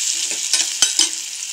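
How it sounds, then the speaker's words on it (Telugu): Onions and green chillies fry in hot oil with a steady bright sizzle, broken by a few stirring scrapes in the pan, close and clear with no voices. "నేను దీంట్లో ఇప్పుడు కట్ చేసి పెట్టుకున్న ఆనియన్స్ అండ్ మిర్చీస్ వేసి ఫ్రై చేసుకున్నాను"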